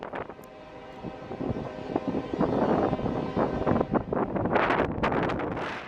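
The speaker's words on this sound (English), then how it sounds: "I was trying to capture the sound of the train, which is an important part of Route 66" A train rolling past along Route 66, a loud, steady rumble with rattling bursts toward the end, heavily buffeted by wind noise on the microphone throughout.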